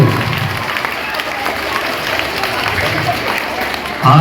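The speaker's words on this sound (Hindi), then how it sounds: "जोरदार इनके लिए तालियां, जोरदार तालियां" Applause from an audience at a Mother's Day celebration in Jodhpur, a steady dense patter of clapping filling the whole stretch, fairly loud, with a louder burst right at the end.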